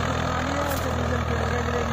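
A Swaraj 960 tractor engine runs steadily in first high gear during a field demo, a loud, continuous low diesel drone with no pauses throughout.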